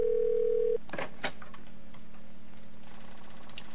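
A steady telephone dial tone sounds in a video game, cut off abruptly after under a second by clicks and handset clatter, then a faint tick.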